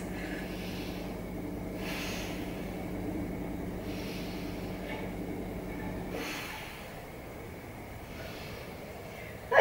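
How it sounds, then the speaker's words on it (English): Slow, deep breaths during a beginner yoga session, about three long, soft inhale-exhale cycles heard close and quiet with no talking. "3 big breaths"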